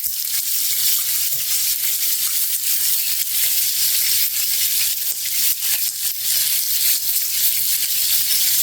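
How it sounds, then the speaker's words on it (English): Steak searing in a hot pan, a loud, dense, unbroken hiss and crackle of fat spitting close up, steady for several seconds without talk. "So we're going to let it sear right here for a couple minutes"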